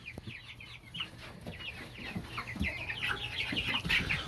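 Chickens and roosters cluck steadily inside a coop holding Ameraucana and golden laced hens, many overlapping calls near and far over a constant low hum, growing slightly busier toward the end.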